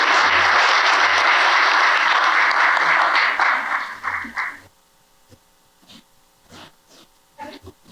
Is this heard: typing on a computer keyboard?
no